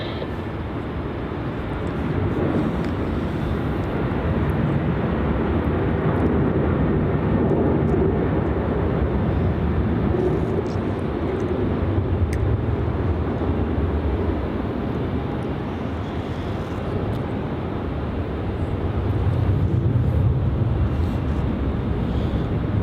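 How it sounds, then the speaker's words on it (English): A Virgin Australia airliner departs runway 34 at Melbourne Airport, its broad, steady jet roar filling the whole stretch at close range and swelling again near the end, with some wind buffeting on the microphone. "Departing off runway 34 now, we have Virgin Australia flight VA91 off to Denpasar."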